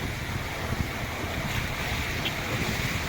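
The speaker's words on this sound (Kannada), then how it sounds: "ಎಷ್ಟು ವೇಗವಾಗಿ ಹರಿತಾ ಇದೆ ನೀರು" Water from the open gates of the Tungabhadra Dam at Hosapete rushes in a dense, continuous roar, loud and steady throughout with no pauses.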